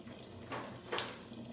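A kitchen sink tap runs during dishwashing, a soft steady wash of water broken by two brief splashy bursts, close and quiet, with no talking.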